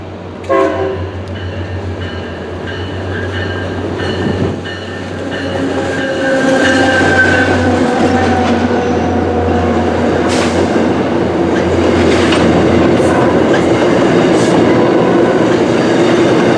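A CSX freight train passes at Readville, a steady heavy rumble of rolling cars with rhythmic wheel clatter and a horn note early on, growing louder and staying close throughout.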